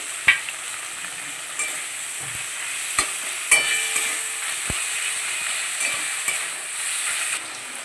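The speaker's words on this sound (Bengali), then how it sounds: "আদা বাটা জিরে বাটা রসুন আর কাঁচা লঙ্কা বেটে নিয়েছি আমি এক চামচ দিয়ে দেবো" Ginger, cumin, garlic and green chili paste fries in a pan with a steady sizzle, broken by sharp clicks and scraping knocks of a spoon against metal; no one speaks.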